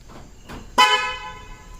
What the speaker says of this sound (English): these horns are quite loud, I mean very loud. So I'll just show you how it sounds.